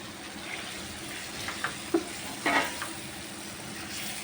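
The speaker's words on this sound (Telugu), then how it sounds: "ఇదిగోండి, ఇప్పుడు వేస్తున్నా టమాటాలు." Tomatoes go into a frying pan of oily onions for a country chicken curry. A soft, steady sizzle is broken by a few brief clatters and stirring scrapes near the middle, with no speech.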